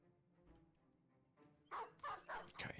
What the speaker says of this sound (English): Okay, dogs come straight to us, that's good.